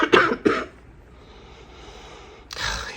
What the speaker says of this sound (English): hate coughing